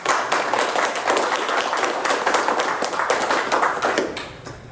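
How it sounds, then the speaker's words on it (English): An audience applauds at a journalists of color panel, with steady, fairly loud clapping lasting several seconds before tapering off at the end. "I would like to give a round of applause to Maya Hodison"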